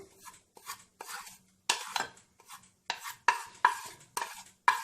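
Spices, onion powder and garlic being mixed by hand in a bowl, heard as a run of short, close scraping and clinking strokes in an irregular rhythm with brief pauses between them, and no voices.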